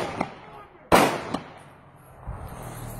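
Sharp gunshots ring out at a fuel station near a pump, a few isolated loud cracks spread over a couple of seconds, one much louder than the rest, with faint background noise between them.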